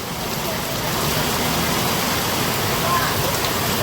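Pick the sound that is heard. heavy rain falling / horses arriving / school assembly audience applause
heavy rain falling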